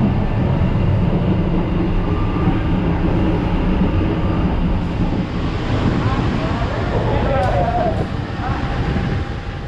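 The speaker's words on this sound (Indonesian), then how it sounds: "kereta api Matarmaja tiba di stasiun Tulungagung" The Matarmaja passenger train pulls into Tulungagung station at midnight, a loud rolling rumble and wheel noise with a faint squeal near the end, while people talk faintly in the background.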